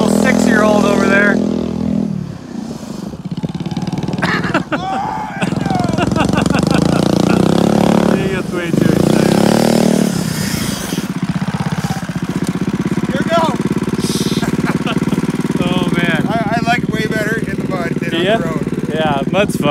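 A Ford Explorer engine revs hard during a long burnout in the snow, a loud, sustained roar with rising and falling pitch and a few brief drops, while people talk over it nearby.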